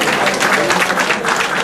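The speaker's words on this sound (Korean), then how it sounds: "박수 한번 주세요" An audience at a coaching lecture claps together in a brief, dense, steady burst that fills the whole moment at high volume, with no pauses.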